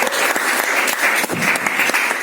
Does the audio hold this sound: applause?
yes